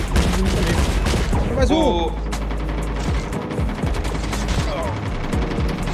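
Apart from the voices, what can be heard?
gunfire in Call of Duty Mobile video game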